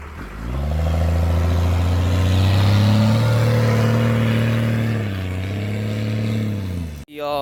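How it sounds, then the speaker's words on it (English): A four-wheeler ATV does a burnout, its engine droning loud and close with a deep, rising and falling rev that holds for several seconds before dropping off abruptly. "now we're doing burnouts"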